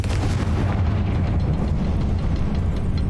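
A Confringo spell detonates in a Hogwarts Legacy battle with a loud, dense, booming explosion that roars and rumbles continuously without a pause, and no voices are heard over it.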